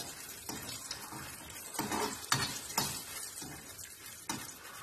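Dried red chillies frying in hot oil give a soft, steady sizzle with a few light stirring scrapes and clinks against the pan, fairly quiet and close, with no talk.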